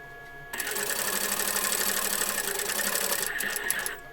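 A sewing machine runs steadily as it stitches fabric for a doll dress with elastic, a dense continuous whir lasting several seconds before cutting off.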